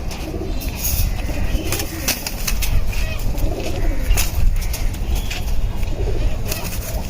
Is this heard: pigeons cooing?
yes